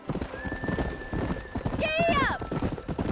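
A horse in the video game Red Dead Redemption gallops with quick, steady clip-clopping hooves, and a loud whinny breaks in partway through, alongside game music and speech.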